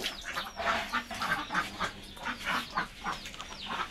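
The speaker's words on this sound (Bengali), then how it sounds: "হাঁসগুলো এখন খাবে।" Ducks fed a mix of paddy and bran quack repeatedly while eating, a rhythmic series of nasal calls close by, moderately loud over light background noise.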